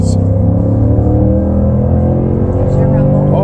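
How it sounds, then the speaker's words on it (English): A 2019 Ford F150 Lariat with a 5.0L Coyote V8 rumbles loudly and close, its deep throbbing idle pulsing steadily with a slight rev near the end, while someone talks over it. "There's your rumble."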